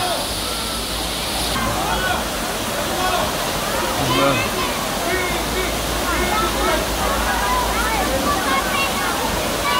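Big Falls at Balagbag Falls in Real, Quezon pours into a deep pool, a loud, constant rushing wash of water close by, with a bird call and faint voices mixed in.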